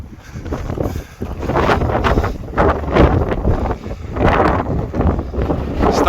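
Strong gusting wind on an exposed coastal volcano hiking trail on La Palma, buffeting the microphone in loud, rolling surges that rise and fall and drown out everything else.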